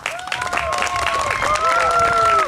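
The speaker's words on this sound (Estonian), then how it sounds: "Teeme neile suure aplausi." Audience at a lawn tractor drivers' awards ceremony at the 2011 Alansi May fair applauds the competitors, giving dense, steady clapping throughout with whistle-like tones riding over it.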